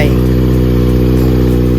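A Kawasaki ZX-25R four-cylinder motorcycle with a JP Racing titanium exhaust idles at a steady, even rumble, loud and close, with no revving.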